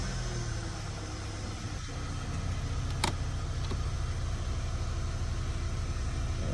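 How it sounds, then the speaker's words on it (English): A 2012 VW Tiguan TSI engine with new spark plugs idles steadily, a constant low hum with one brief sharp click partway through, heard close with no speech. "We got startup with the new plugs in. Started right up, no issues."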